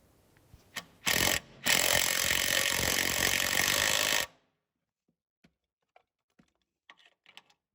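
A power tool tightens the engine mount nut and bolts on a 2000-2005 Buick LeSabre front passenger mount. A short close burst is followed by a longer steady run of about three seconds, then quiet with a few faint clicks.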